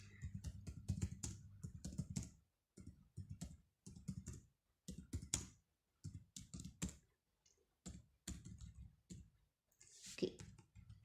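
Rapid keyboard typing on a computer during Python coding, a steady run of close, crisp key clicks with short pauses between bursts, no voices.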